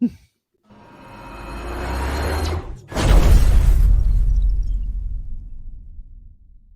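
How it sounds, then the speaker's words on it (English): A big explosion sound effect plays during an after-dark wrestling show broadcast from Toronto: a short bang and crackle, then a heavy, close boom with a deep rumble that slowly fades over several seconds, with no voices. "Whoa, big explosion."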